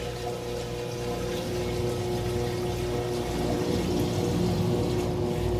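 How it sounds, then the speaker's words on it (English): A Whirlpool high-efficiency washing machine on its first slow rinse spin, draining wash water: a steady, close hum of pump and motor with continuous watery rushing, no talk. "It's on the rinse cycle and it's starting on its first slow spin. Getting the wash water out."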